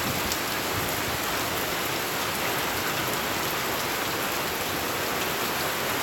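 Dense, unbroken roar of heavy hurricane rain from a passing band, loud and constant with no voices.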